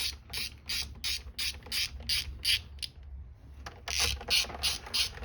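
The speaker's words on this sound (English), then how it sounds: "I'm just going ahead and snugging them down all evenly, that way I know everything's threaded in right" A ratchet wrench snugging down top end bolts on a 2001 Polaris XC SP 600 snowmobile engine, close rapid clicking strokes in regular bursts with a short pause midway, no talk heard.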